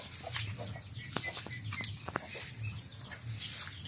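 Brown hens roaming a provincial backyard garden, including a brooding mother hen with her hatched chicks, giving soft clucks and short calls amid light rustling, with a brief voice nearby.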